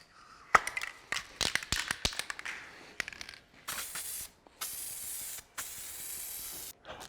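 Aerosol paint can spraying base coat onto slip-on quick covers for a 2009-2014 Ford F150 SuperCrew, preceded by a series of sharp clicks and rattles, then three sustained close hissing bursts separated by short pauses.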